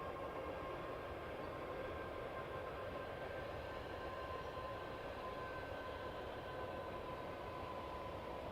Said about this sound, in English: Got a train passing by